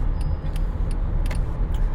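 A car passes on the road close by, a steady low rumble of tyres and engine heard from inside a slowing vehicle, with a few faint jingling clicks on top.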